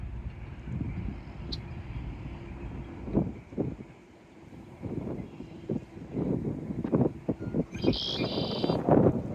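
Red-winged blackbird song rings out in the open, a few bright calls over wind and low outdoor rumble, with a short sharp burst near the end; moderately near and clear.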